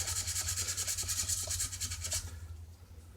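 A BC Rich Warlock guitar body is sanded with 800 grit sandpaper in steady, close back-and-forth rasping strokes that fade toward the end, with a low hum underneath.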